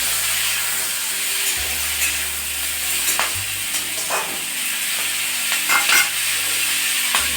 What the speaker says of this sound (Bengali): দিয়ে নেড়ে চেড়ে চাপা দেব।